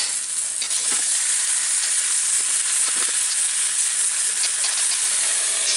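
Hilsa paturi wrapped in gourd leaves fries in a covered pan, giving a loud, steady sizzle and hiss with a few crackling pops, and no talking.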